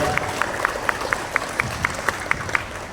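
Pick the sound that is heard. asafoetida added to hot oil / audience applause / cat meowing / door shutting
audience applause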